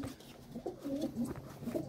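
Pigeons coo softly and repeatedly at close range around a nest with eggs, a low throaty burbling rolling on with brief pauses.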